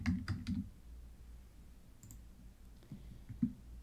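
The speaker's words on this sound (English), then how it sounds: "I'm going to type name into the subtitle." Typing on a computer keyboard, a few quiet close clicks at the start and a scattered handful near the end, with a near-silent pause between and no voices.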